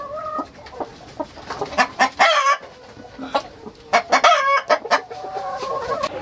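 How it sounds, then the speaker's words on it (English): Rainbow rooster chickens on a poultry farm cluck and crow close by, with several overlapping calls and bursts of loud crowing over constant clucking. "these are the stock of rainbow roosters"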